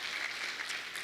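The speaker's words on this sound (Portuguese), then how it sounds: "Vamos aplaudir o nosso amigo Espírito Santo" A church congregation applauding during a service, a faint, steady wash of many hands clapping, heard from a distance for about a second with no voices.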